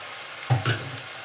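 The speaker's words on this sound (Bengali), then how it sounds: "পেঁয়াজ পাতাটা একটু নাড়াচাড়া করেই এই মশলাটা দিয়ে দিলাম" Spring onion greens frying with spice paste in a pan for tilapia jhal, with a quiet sizzle broken by two short stirring scrapes close by.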